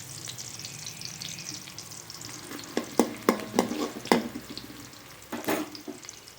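Onions sizzle in a hot frying pan, a steady close hiss of oil broken by several sharp scraping stirs from a spatula, with no talking.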